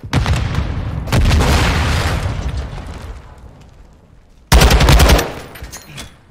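Sniper rifle shot and gunfire in Modern Warfare 2 (2022) Search and Destroy, loud booming shots and rapid bursts in two clusters separated by a quieter stretch, close and punchy.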